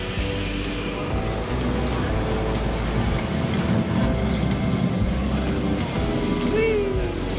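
Video game tram rolling along, a loud, steady rumbling drone with layered engine-like hum and a short rising squeal near the end.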